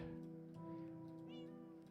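Cats meowing in Minecraft, a drawn-out tonal meow with wavering pitch followed by a second shorter meow rising over it, set against a low steady background hum.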